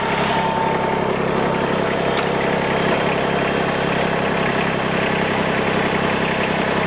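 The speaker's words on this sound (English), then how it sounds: "start the tractor" A New Holland Workmaster 25s sub-compact tractor engine idles with a steady, even rumble, close and constant throughout, with no clear start-up heard.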